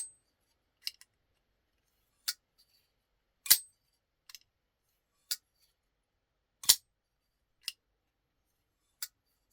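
A series of sharp metallic clicks and snaps from a Kizer Hawk folding knife flipping open, about nine in all, spaced irregularly in near silence, a couple landing louder with a faint ring.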